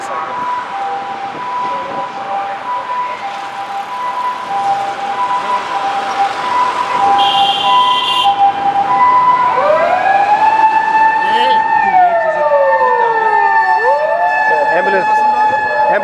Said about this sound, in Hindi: Ambulance, ambulance.